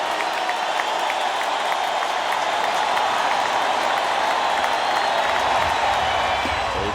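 Phillies fans waving rally towels at a Nationals–Phillies baseball game in September 2008 on the day the Phillies clinched the NL East, a sustained loud crowd roar with scattered clapping that holds steady and swells slightly near the end.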